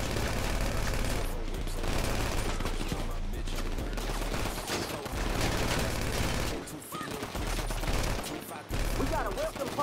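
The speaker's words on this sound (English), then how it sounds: "Hold still while I shoot your bitch ass." Dense, loud bursts of automatic gunfire during a drive-by in GTA V Online, near and nearly continuous with a few brief pauses, rapid overlapping shots filling the whole stretch.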